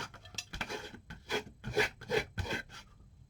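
Short rasping rubbing strokes as burrs are worked off a Damascus steel knife blade, about seven quick scrapes in a loose rhythm, close and clear with no voice.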